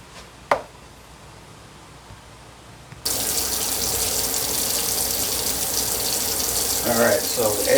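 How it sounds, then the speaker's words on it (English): Cold tap water pours in a steady, loud gush over freshly boiled eggs in a kitchen sink, starting abruptly after a brief quiet moment with a knock, and a few faint voice murmurs near the end. "What I'm going to do is running them under the cold water, letting out the hot water, just pour over as I go along."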